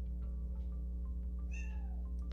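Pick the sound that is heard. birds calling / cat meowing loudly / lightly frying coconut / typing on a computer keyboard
cat meowing loudly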